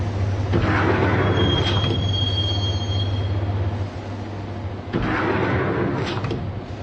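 A subway train carries a passenger toward Roscoe Street Station in the 2001 video game Max Payne, its steady low rumble broken by wheel squeals and metallic clatter, briefly dipping before the ride noise swells again.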